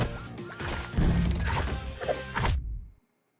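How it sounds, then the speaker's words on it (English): Cartoon-style boxing glove arrow impact from a Green Arrow versus Hawkeye fight animation, a loud crashing smack with layered thuds and a brief ringing tail over about two and a half seconds, then abrupt silence. "You should hear the boxing glove arrow when it hits. It makes this kind of sound."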